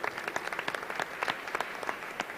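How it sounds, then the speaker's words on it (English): A conference audience at a science, religion and philosophy gathering applauds steadily, many hands clapping in a crisp, even patter at moderate volume with no talk over it. "Please give a big applause for the MIT World Peace University."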